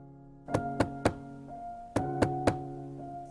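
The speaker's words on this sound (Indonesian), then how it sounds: "Suara ketukan pintu itu terdengar jelas oleh Bram." Knocking on the back door of a house in a horror story: two groups of three sharp, solid knocks, separated by a short pause, over a low sustained musical drone.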